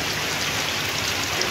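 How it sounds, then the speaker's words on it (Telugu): Heavy rain pours steadily over Avanigadda in Krishna district, a dense, continuous hiss of downpour with no break or voices, loud and close throughout. "తెల్లవారుజాము నుండే హోరుగాలతో కూడిన వర్షం ప్రారంభమైంది."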